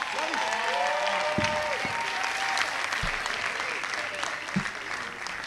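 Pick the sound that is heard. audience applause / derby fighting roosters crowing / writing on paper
audience applause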